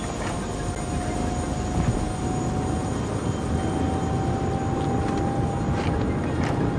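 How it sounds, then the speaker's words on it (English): Steady helicopter engine and rotor drone from the video game Prey, a continuous mid-level whine with a faint tonal hum, heard close and unbroken throughout. "Let's board the helicopter"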